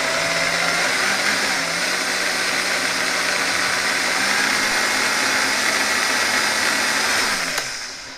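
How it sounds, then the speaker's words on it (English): A blender purees sage for a spaghetti squash cream at low variable speed, a steady loud motor whir running throughout and winding down at the end. "we're just going to lower the speed on the blender down to the variable speed"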